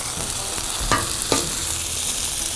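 Chicken eggs fry on a Blackstone griddle with a steady, close hiss of sizzling oil, broken by two brief scraping clinks of a spatula on the flat steel top.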